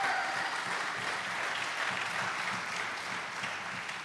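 Audience applause at a live talk, a steady patter of many hands clapping at moderate distance, fairly faint and continuous for a few seconds with no voices.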